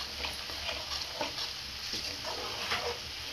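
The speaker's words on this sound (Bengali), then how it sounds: "ভাজা হচ্ছে।" Meat and spices fry in a pan, giving a faint, steady sizzle with light stirring scrapes throughout.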